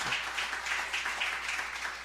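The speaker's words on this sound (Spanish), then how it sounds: "ríndele una fuerte ofrenda de aplauso" A church congregation applauds at a night service, a steady, even patter of many hands clapping together, moderately distant and soft, with no talking over it.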